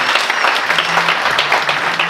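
A church congregation claps steadily and loudly at a Kikuyu worship gathering, dense continuous applause filling the room from start to finish, with no pauses.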